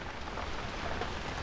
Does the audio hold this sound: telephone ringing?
no